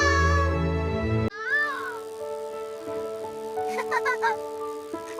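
A cartoon cat gives a few expressive meows, bending in pitch over a soft musical background, with a brief louder tone at the start.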